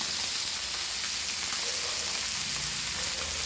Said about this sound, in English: Let it fry till it is fried crispy.